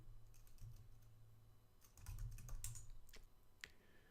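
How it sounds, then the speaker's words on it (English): Keys tapped on a computer keyboard while a Linux ssh-keygen command is entered: quiet, close, irregular clicks in short bursts with brief pauses, no voices. "Typing Ssh Key Gen"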